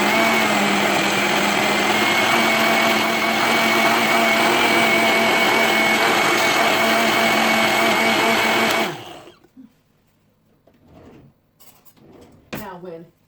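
Kitchen blender whirring through smoothie ingredients, a loud steady motor drone with a high whine that cuts off abruptly after about nine seconds, followed by a few clunks and handling noises.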